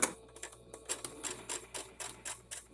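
A button-start sewing machine runs a straight stitch, producing a quick series of soft, rhythmic mechanical ticks and clacks, close and fairly quiet, with no talking.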